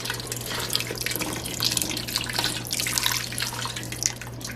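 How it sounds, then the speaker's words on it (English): Water runs steadily from a tap into a cooking pot being filled for sopa de salchichon, a continuous soft splashing rush with faint drips and no voices. "you're gonna fill this up with water"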